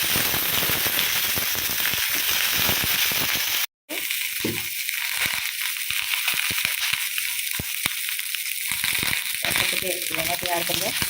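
Brinjal (eggplant) pieces frying in hot oil for a curry, a dense loud crackling sizzle with sharp pops, briefly cut off then resuming with scattered spitting crackles.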